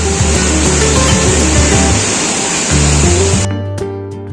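Ruposhi waterfall at Sitakunda in monsoon, its water pouring strongly as a steady, loud, close rush of broadband noise with low tonal layers beneath, ending abruptly near the end.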